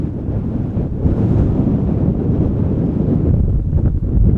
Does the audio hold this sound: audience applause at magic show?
no